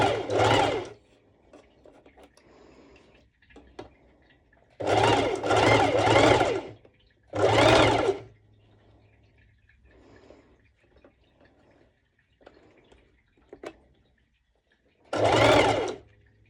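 Sewing machine running a straight stitch at long stitch length on jumpsuit fabric, in several loud close bursts of rapid rhythmic clatter separated by quiet pauses with faint handling sounds.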